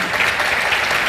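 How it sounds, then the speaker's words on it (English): An audience at the Corporate Club at Landerhaven applauds, giving a dense, steady patter of clapping from many hands for about a second. "That was my call for applause."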